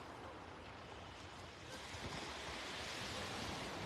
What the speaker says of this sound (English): That's the sound of all these beach stones being washed smooth.